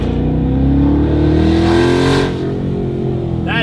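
Modified Mustang GT with Valvetronic exhaust, valves open and resonator casing fitted, revs loud and close between buildings, holding a deep rumbling drone before the throttle eases off near the end.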